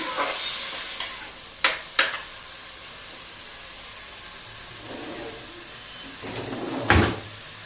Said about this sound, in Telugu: పచ్చిమిర్చి వేసుకోవాలి ఇది బాగా ఫ్రై అవ్వాలండి